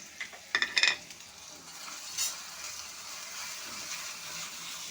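Ginger garlic paste frying with onions for a capsicum chicken curry, with a spoon scraping and clinking against the pan in a quick cluster, then a soft steady sizzle continuing underneath.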